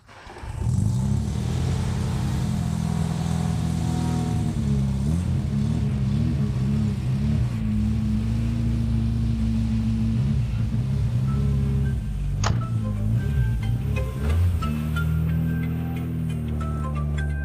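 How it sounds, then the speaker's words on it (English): A Studebaker R6 engine runs with a loud, steady low rumble that rises and dips as it revs, close by and alone, with a faint click midway. "This is a Studebaker R6, also original."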